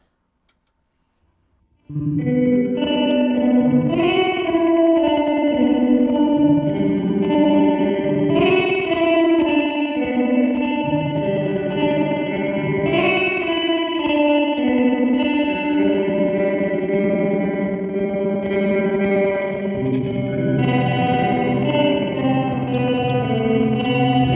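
A guitar runs through a Red Panda effects pedal with reverse engaged, producing a wobbling, pulsating, reversed-sounding wash with chorus-like shimmer, steady and loud throughout.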